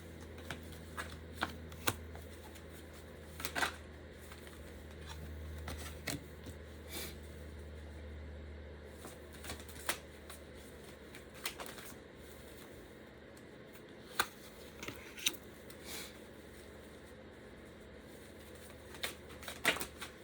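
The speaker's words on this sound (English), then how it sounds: "I'm gonna pull some clarifying cards on this." Tarot cards shuffled steadily for about twenty seconds, with soft papery riffles and occasional sharper snaps and taps standing out clearly. No one speaks.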